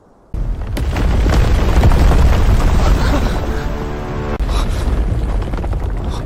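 A loud, deep rumble begins suddenly and rolls on heavily, booming low with a brief dip before surging again, like a powerful earthquake.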